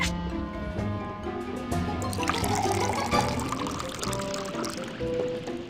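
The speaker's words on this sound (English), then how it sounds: "we have to pour him some coffee and sober him up" Coffee poured in the No One Lives Forever 2 video game, a steady liquid stream filling a cup under game music, continuous and moderately loud throughout.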